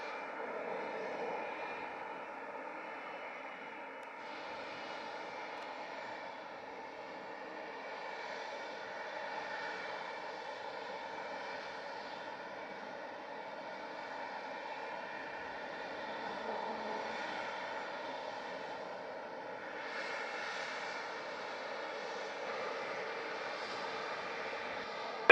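Jet airliner taking off from Montego Bay, Jamaica, a sustained distant engine roar swelling and fading over about twenty-five seconds, heard alone without talk.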